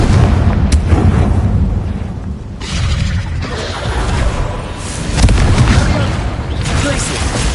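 A fiery Confringo spell explosion from Hogwarts Legacy booms amid a loud, dense clatter of game combat, with rumbling blasts and crashing impacts that swell and recede over several seconds.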